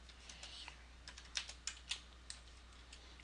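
Quiet keyboard typing, a scattering of soft clicks with a few sharper keystrokes in an uneven rhythm, close by against a low steady hum.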